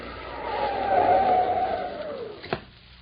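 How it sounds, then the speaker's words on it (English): On a snowy road a car brakes hard and skids, a long, loud tire screech that rises, holds and fades out over about two seconds before ending in a sharp thump, with no voices. "had to slam on his brakes so that he wouldn't run over him"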